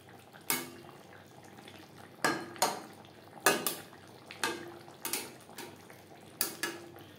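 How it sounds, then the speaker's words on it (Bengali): Garam masala powder being stirred into a gravy of pointed gourd curry in a pan, a utensil scraping and clinking against the pan in about eight distinct strokes over a quiet background, with no talking. "গরম মশলা পাউডার গ্রেভির সাথে বেশ ভালো করে মিক্সড করে দেব"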